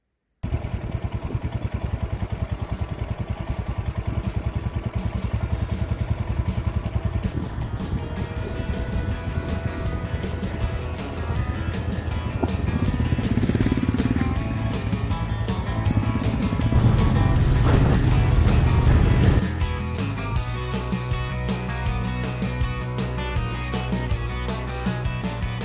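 Motorcycle ridden slowly up a technical mountain trail toward Cinnamon Pass on the Trans America Trail in Colorado, the engine droning and revving unevenly with clattering and wind noise, growing louder midway before settling back.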